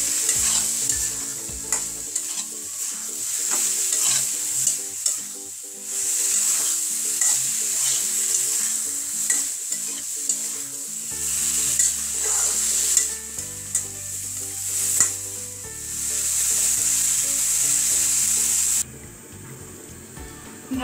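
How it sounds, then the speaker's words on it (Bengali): Curry stir-fried in a pan, a steady bright sizzle with repeated scraping strokes of the spatula throughout, loud and close, with no voices. "খুব ভালোভাবে কষিয়ে নিব।"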